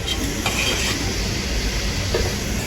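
Garlic and cumin paste fries in a pan for fish curry, a loud, dense, continuous sizzle with a rough hiss and faint stirring texture, no voices.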